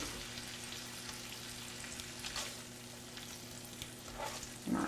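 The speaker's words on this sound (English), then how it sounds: "typically when you're doing it on your stove, which makes it a little different, you want your bacon to be crispy" Bacon fries in a pan on a stovetop with a steady, soft sizzle and crackle that carries on throughout at low volume, with no talk.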